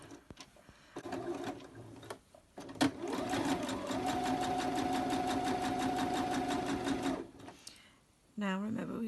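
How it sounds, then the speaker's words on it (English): A sewing machine runs steadily for several seconds while stitching a fabric pencil case, its rapid mechanical chatter close and loud. It starts after brief talk and stops near the end, when a voice speaks again. "So I am going to start sewing from here because I'm going to leave a gap on this side."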